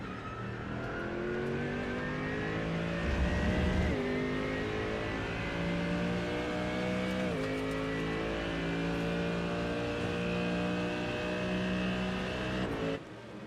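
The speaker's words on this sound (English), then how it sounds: "I love the sound of that Mercedes motor." Mercedes GT3 race cars at The Bend, engines droning loud and close with steady revs that dip at gear shifts and climb again, the racing sound continuous throughout.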